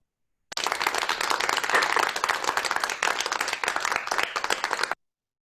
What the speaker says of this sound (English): why did the applause stop? I was enjoying it